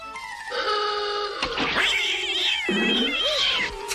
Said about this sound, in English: don't tease the cat